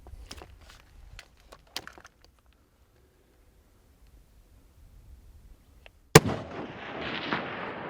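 A single sharp rifle shot rings out while hunting desert bighorn sheep in Sonora, Mexico, loud and close, with a rolling echo trailing behind it after several seconds of faint rustling and quiet.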